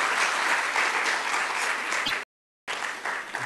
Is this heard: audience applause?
yes